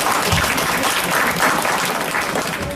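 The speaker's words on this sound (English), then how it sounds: "Let us all give her a big round of applause" A big round of applause at a book launch for Dr. R.B. Herath: close, dense clapping from a room of people, sustained and fairly loud for a few seconds.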